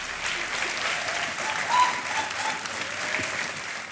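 Studio audience on an Indian television quiz show applauds steadily, a dense sustained clapping that fills the whole stretch with a faint crowd murmur.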